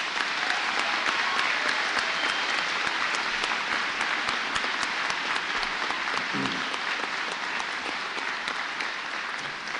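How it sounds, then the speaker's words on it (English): An audience at a community college commencement applauds graduates, producing loud, continuous, dense clapping from a large crowd throughout, sounding steady and full in a big hall. "Let us applaud these graduates."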